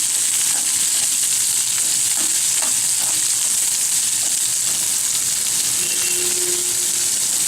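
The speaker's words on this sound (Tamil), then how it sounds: "கருவேப்பிலை, லைட்டா வதக்கிக்கலாம்." Curry leaves sauté with onion in hot oil in a pan, making a steady, close sizzle and hiss with a few light stirring clicks and scrapes.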